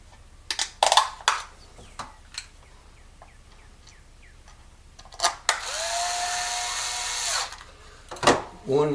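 A power drill drives screws into a battery housing in several short bursts, with one longer whirring run in the middle, close by amid clicks and handling noises.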